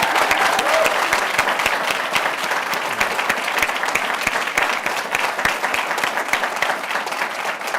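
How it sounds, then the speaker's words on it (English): An audience breaks into a sustained round of applause at an education program event, dense steady clapping that holds at an even level for the whole stretch, with no voices on top. "How about a big round of applause for them?"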